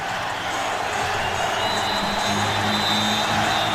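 A 69,000-strong football crowd at Candlestick Park in San Francisco roars in a steady, dense wash of cheering throughout, loud and sustained without letup.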